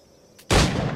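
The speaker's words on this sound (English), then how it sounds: "I didn't mean to shoot" A single gunshot in Assassin's Creed Black Flag bursts in sharply after near-silence, a loud broadband crack with a booming low tail that rings on to the end.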